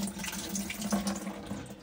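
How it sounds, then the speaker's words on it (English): Water drains from the sink bowl of a Highwayman campervan as the bowl is slowly lifted toward the back, a steady soft gurgling trickle and wash, close and fairly quiet, with no other sound. "to drain this out, you just basically slowly lift it towards the back and it will drain down the middle"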